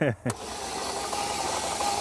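Chevy Cruze engine that overheated and has lost cylinder compression, cranking without starting with an even mechanical whirring and rattle. A voice is heard briefly at the start.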